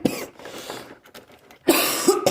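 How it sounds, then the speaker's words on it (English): A person coughing up close, first a short cough, then after a quieter pause a louder burst of two or three harsh coughs. "Excuse me for my coughing."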